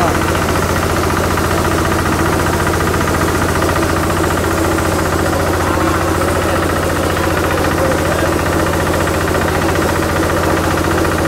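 A Maktani MT212 rice mill driven by a Kubota RB 150 diesel engine grinds paddy rice, giving a loud, steady mechanical drone with a constant knocking rumble throughout and no pauses.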